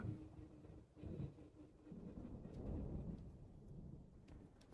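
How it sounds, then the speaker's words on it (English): Low, rolling rumble of distant thunder from a storm on the horizon, heard as a steady muffled roar with a few soft swells and no talk. "Storms on the horizon."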